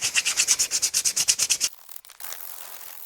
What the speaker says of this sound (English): Now for the best part, sanding.